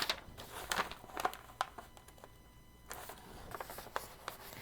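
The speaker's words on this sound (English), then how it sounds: "I'm going to use a piece of paper and do some folding." Crisp printer paper crinkling and creasing as it is folded, several sharp rustles and soft folds in quick irregular bursts, close by with no talking.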